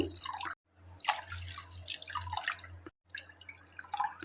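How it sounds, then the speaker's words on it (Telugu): Milk pours for a muskmelon milkshake in a close, gurgling liquid stream with splashy bubbling, broken by two short pauses over about four seconds, fairly quiet with a low hum underneath. "3 కప్పులు మిల్క్ పోసుకోవాలండి."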